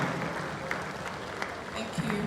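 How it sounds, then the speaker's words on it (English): Audience at a blockchain and DeFi tech conference applauding a speaker's introduction, a dense, steady wash of clapping with a few sharper claps and faint voices mixed in. "let's put our hands together for Fejiro Hanu"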